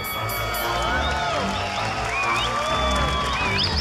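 Studio audience cheering and clapping for a model on a Latin comedy game show, a loud continuous crowd roar with whoops and whistles throughout.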